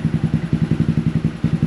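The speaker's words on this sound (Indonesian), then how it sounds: "Lama-lama mulai tinggi dah idle-nya." A bored-up Honda PCX 160 scooter engine idles up close, with a quick, even chugging pulse and a slight clatter, and no talk over it.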